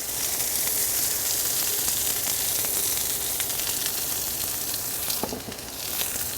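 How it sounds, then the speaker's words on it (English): Red peppers sizzle steadily in olive oil on a hot plancha, a continuous close broadband crackle and hiss with a brief sharper spatter near the end and no talking. "We are going to take some olive oil, put it directly on our plancha. Throw our red peppers down."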